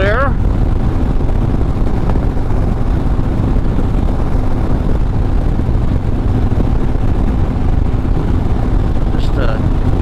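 Motorcycle ridden without its tour pack on an Arizona road, a loud constant low engine drone mixed with heavy rushing wind buffeting the microphone, steady throughout.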